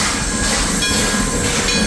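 A steam train, locomotive number 1 Dixie, rolls into the station at Roaring Camp during a steam-up, making a loud, steady rumble of wheels and rail noise that runs throughout without pause.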